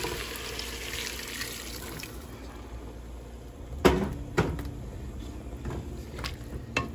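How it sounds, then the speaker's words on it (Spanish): Hot water is poured into a pot of shrimp broth with vegetables, a steady liquid wash punctuated by a couple of sharp knocks of metal and utensils near the middle, close and moderately loud, with no talking. "aquí tengo mi agua caliente ya lista para ponérsela y se la vamos a poner."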